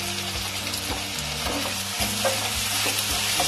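Ginger and garlic paste frying in a pan alongside fried bhetki fish for a Bengali fish curry, a continuous close sizzle broken by repeated spatula scrapes and stirs, with no voices.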